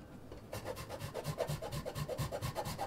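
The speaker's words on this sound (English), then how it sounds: "And then you can use the bigger grate for chocolate." Chocolate scraped across the larger holes of a grater gives quick, regular rasping strokes, close and fairly soft, starting after a short quiet moment and continuing in a steady rhythm.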